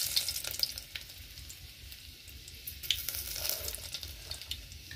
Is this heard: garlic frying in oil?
yes